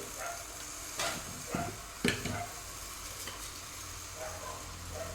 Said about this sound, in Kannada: ಈಗ ಇದಕ್ಕೆ ಮಟನನ್ನು ಹಾಕ್ತೇನೆ. ಸ್ವಲ್ಪ ಅರಸಿನ ಹಾಕ್ತೇನೆ.